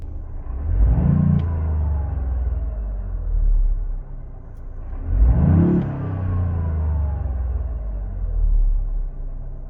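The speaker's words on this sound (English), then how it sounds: "here's a clip of the car revving to 4K with the sound enhancement turned on" A Toyota GR Yaris engine, with engine sound enhancement on, revs to 4,000 rpm twice, each time rising sharply from a low rumble to a high whine, then falling back to idle between bursts.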